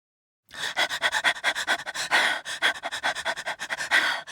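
A voice imitates rapid, rhythmic dog panting, quick breathy huffs repeated steadily and close, with no talking.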